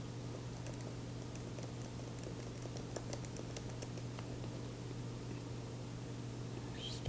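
Soft, irregular clicks of keyboard typing as random values go into app form fields, quiet and close over a steady low hum, with a sharper noise at the very end.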